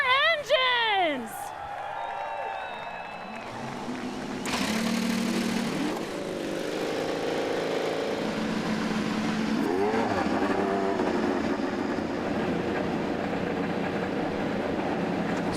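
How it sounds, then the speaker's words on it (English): IndyCar race car engines fire up at Texas Motor Speedway, a busy layered roar of several engines revving after a crowd and announcer, with rising whines cutting through the mix. "Drivers, start your engines!"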